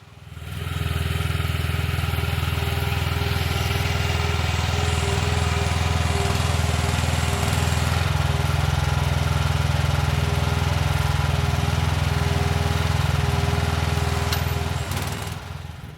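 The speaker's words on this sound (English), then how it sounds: "it had no problem just dragging it and then ultimately pushing it to its final destination" Small Chinese excavator dragging and pushing a tree stump, its engine droning steadily and loudly throughout with faint clatter, close by, no talk.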